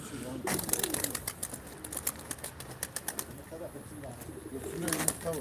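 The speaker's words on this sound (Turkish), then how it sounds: "kuşların sesleri, solukları, fişekleri güzel" Pigeons coo in low, soft murmurs amid rustling and flapping at a live pigeon auction, with someone talking over much of it and scattered clicks throughout.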